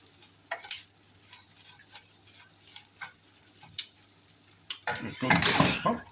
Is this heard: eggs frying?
yes